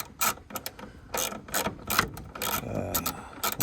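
Ratchet clicking as 10mm screws are backed out of the headlight housing on a Subaru Sambar van, a close series of sharp, irregular metallic ratcheting bursts with short pauses between strokes.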